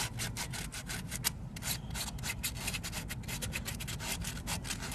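A small scrap of sandpaper rubs back and forth across a surface in steady, close strokes, a continuous scratchy hiss with no voices.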